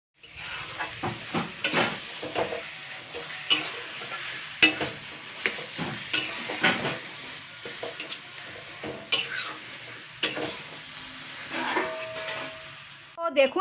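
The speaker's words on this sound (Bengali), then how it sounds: "এটাকে দিয়ে এবার ভালো করে কিন্তু নাড়াচাড়া করতে হবে" Taro leaves (kochu shak) cooking in a pan, stirred with a utensil that scrapes and knocks against the metal at an irregular pace over a soft constant sizzle, close and moderately quiet.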